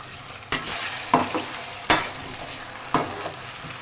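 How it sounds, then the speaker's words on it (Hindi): Garlic-ginger paste and tomato go into a pan of softened onions, with a few sharp stirring scrapes and bursts of sizzle over a low steady frying hiss. "इस टाइम पे लहसुन अदरक का पेस्ट और टमाटर"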